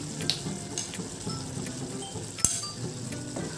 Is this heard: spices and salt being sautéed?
yes